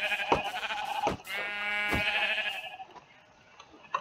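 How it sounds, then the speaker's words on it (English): Minecraft sheep bleat in a few loud, wavering calls close by, mixed with short clicks and game sounds, then fade to a quieter background. "Hello, Mr. Sheep."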